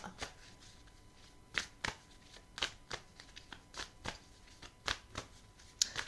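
Tarot cards are shuffled by hand in a quiet room, producing a run of soft, crisp riffling bursts at an uneven rhythm, close and alone with no talk.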